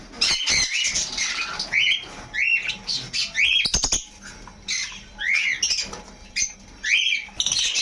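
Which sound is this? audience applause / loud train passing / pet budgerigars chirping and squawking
pet budgerigars chirping and squawking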